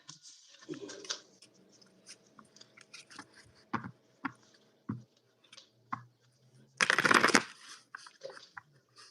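Tarot cards are shuffled and tossed down onto a surface: scattered soft taps and clicks, then one short, dense riffling burst, close and fairly quiet over a low hum.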